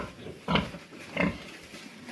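A sow on a pig farm gives two short, fairly loud grunts about three-quarters of a second apart, set against quiet barn background noise.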